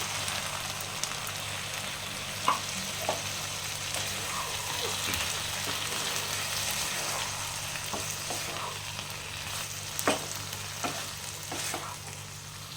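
Mustard and poppy seed paste thinned with water bubbles in a pan for an okra dish, giving a steady close sizzle with a faint low hum and a few sharp utensil clicks.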